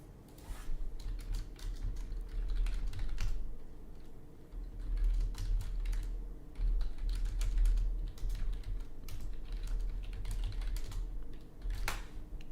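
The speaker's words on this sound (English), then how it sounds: "I was just typing to my partner." Steady rapid clatter of keys on a computer keyboard, typed in bursts close by over a low constant hum, with a few sharper clicks; no talking.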